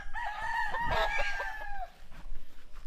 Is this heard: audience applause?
no